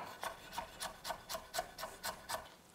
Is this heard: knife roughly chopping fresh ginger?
yes